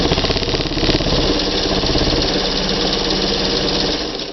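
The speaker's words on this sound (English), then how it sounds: "Now we've got a lot of range of stitches on this machine too, from very slow to pretty darn fast." A vintage Kingston Precision Synchro-Matic sewing machine runs fast, its rapid steady needle chatter and motor whir loud and close, continuous throughout with a slight drop near the end.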